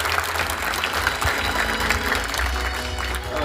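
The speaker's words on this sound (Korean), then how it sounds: "다시 한번 뜨거운 박수 부탁드립니다." A seated audience at a book concert in the Halla Art Hall at Halla University in Jeju gives loud, sustained applause, an even, continuous roar of clapping throughout.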